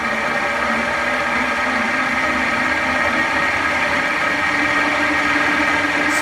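A wood lathe spins a bowl blank at 1100 RPM during a test cut, giving a steady, loud, continuous mechanical whir and hum with no breaks or voices.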